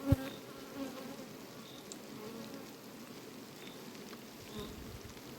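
Many bees fly around an open beehive, a steady buzzing swarm close by with a few louder passes, no talking.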